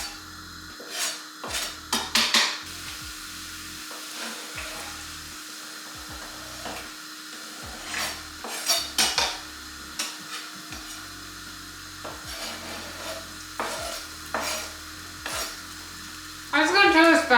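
Garlic and onion fry in a pan with a low steady sizzle, broken by repeated scrapes and knocks of a utensil stirring against the pan, with louder clatter toward the end.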